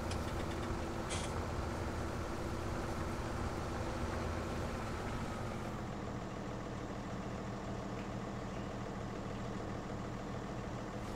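A low, steady tractor engine drone in Farming Simulator 17 hums quietly throughout, idling and driving, with a faint change in tone partway through.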